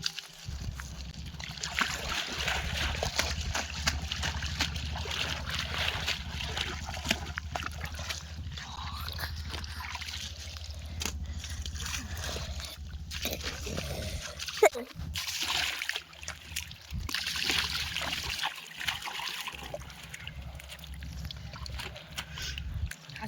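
Freshly caught river fish being washed in a Sundarban river setting: continuous sloshing and splashing water runs throughout, with a louder burst midway, while people talk over it.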